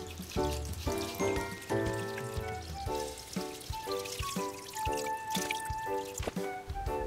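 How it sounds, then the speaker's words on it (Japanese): Dechlorinated water poured slowly over a wet shelter in a newt tank with gravel, a close continuous trickle and splash with bubbly gurgling tones throughout. "カルキを抜いた水をね、こうやって砂利を崩さないようにウェットシェルターにかけながらゆっくり流していきます"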